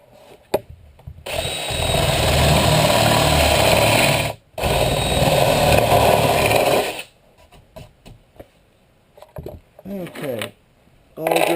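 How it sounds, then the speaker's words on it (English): Power drill cutting a countersink into a part of a teardrop trailer build, one long steady run of about three seconds with a brief pause, then a second run, followed by quieter handling noises. "So I'll go ahead and countersink the other side."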